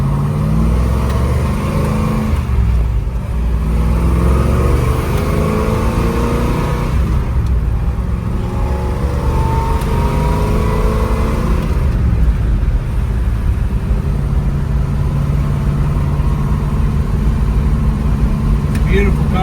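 A 1966 Chevrolet Chevelle SS 396 V8, 360 HP L34, on a drive in Kentucky: a steady, close engine drone that rises and falls in pitch as it works through the gears.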